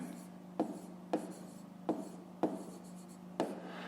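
A pen scratches across paper during a fifth-grade math exercise, close and fairly quiet, with five distinct stroke bursts spaced about a second apart over a steady low hum.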